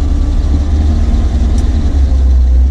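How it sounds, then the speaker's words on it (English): Land Rover 101 engine pulling away in first gear, a loud, steady low rumble with slight revving, close and continuous with no talk. "let's start her up and take her for a drive"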